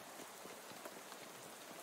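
Steady rain falling in the video game Shadows Over Loathing, a faint, even hiss of drops with no other sounds.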